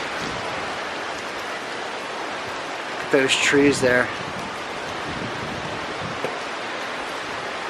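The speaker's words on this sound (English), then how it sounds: "Oh, it's windy, blowing rain." Steady gusting hurricane wind with rain blowing through, a constant rushing wash; a person speaks briefly partway through.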